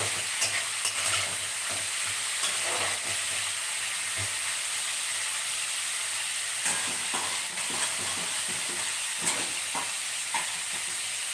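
Ingredients for a bean and sesame curry fry in a pan with a steady, loud sizzle and hiss, plus occasional stirring scrapes, close up throughout with no talking.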